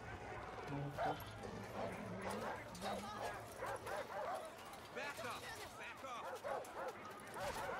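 Dog barks and yips from the Far Cry 5 video game, several short bursts spread through the scene over game music and ambience, with voices talking throughout.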